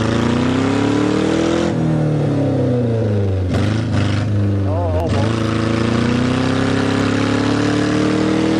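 A demolition derby car, in a Topaz versus Saturn heat, driving away with a loud engine that revs and changes pitch, heard close alongside shouting and crowd noise throughout.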